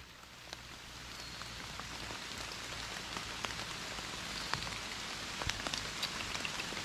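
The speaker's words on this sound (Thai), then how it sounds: "ตอนนี้ฝนตกครับ" Steady rain patters on surfaces outdoors during wild mushroom foraging, a dense continuous hiss with scattered sharper drops, fairly loud and alone with no talk.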